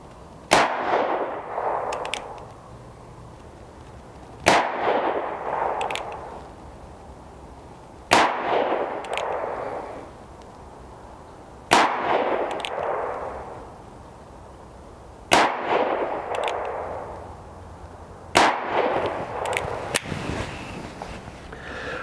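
An EMF Gambler Royal .45 Colt single-action revolver fires six loud, sharp shots at a 7-yard target, spaced roughly three to four seconds apart, each followed by a decaying echo, with no talk.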